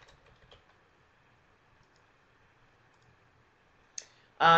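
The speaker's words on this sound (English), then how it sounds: "So you go over here and click Save." Soft computer mouse clicks: a few faint clicks near the start, a quiet stretch, then a sharper click and a louder burst at the very end during form data entry on a computer.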